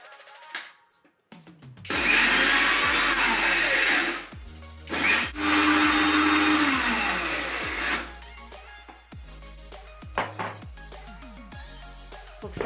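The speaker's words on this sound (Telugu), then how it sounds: "ఇప్పుడు ఇది మిక్సీ పడదాము" A mixer grinder crushing chillies, garlic and salt for egg pachadi, its motor whirring loudly in two long bursts with short pauses, followed by clattering handling of the jar.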